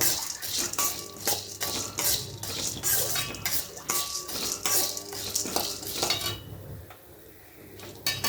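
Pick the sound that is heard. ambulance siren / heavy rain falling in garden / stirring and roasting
stirring and roasting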